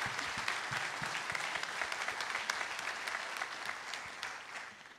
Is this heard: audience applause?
yes